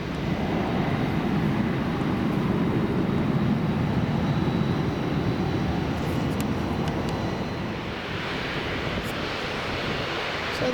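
An aircraft taking off at Manchester Airport, a loud sustained jet roar filling the scene and easing slightly toward the end, with wind buffeting the microphone.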